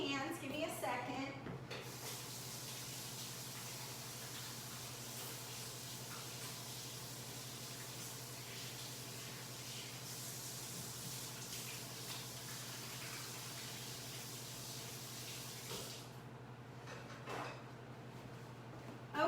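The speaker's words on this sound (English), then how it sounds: "Let me just wash my hands." Steady running tap water splashes over hands being washed at a kitchen sink, a continuous close hiss that cuts off near the end, with faint talk at the start.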